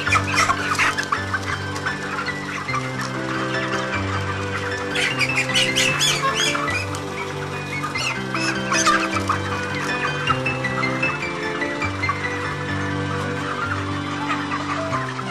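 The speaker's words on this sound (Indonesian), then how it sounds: "Setelah itu kita menangkap ayam yang akan ditimbang secara acak." Broiler chickens on a meat-poultry farm squawk and cluck as they are caught for weighing, a crowded, continuous chorus of loud agitated calls with bursts of flapping, close by and without speech.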